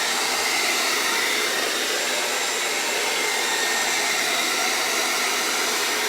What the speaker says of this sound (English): I'm just using a regular hairdryer.